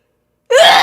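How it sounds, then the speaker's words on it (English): A woman gives a single short, soft sneeze, loud and close after silence, with a breathy gasping quality. "Oh my god, I think I just sneezed off a lash"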